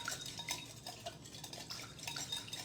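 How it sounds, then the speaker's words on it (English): A whisk stirs a salad dressing of oil, lime and salt in a bowl, making quiet, close, irregular scraping and clinking against the bowl with no voices. "so let's whisk this together. This is going to be the dressing."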